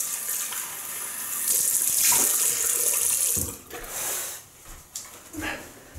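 A bathroom tap runs and water splashes as someone rinses off after a wet shave with a double-edge razor and lime shaving cream, a close hiss that rises then breaks into irregular splashes, with faint talk.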